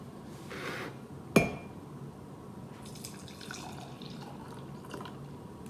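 A mug clinks once, then hot cocoa pours steadily and quietly into it, with faint splashing and a soft dribble toward the end.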